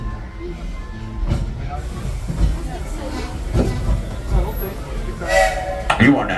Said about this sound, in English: please stay in your seats until our engine comes to a full and complete stop